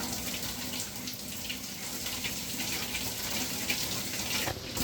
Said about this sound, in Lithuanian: Lendam į dušiuką, pradedam dienelę.